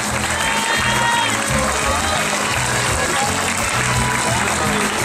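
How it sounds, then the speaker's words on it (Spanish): An audience at a party headquarters inauguration applauds the board and presidents, a dense steady wash of clapping with some crowd noise and voices mixed in throughout. "Un fuerte aplauso, por favor, para la mesa directiva y los presidentes"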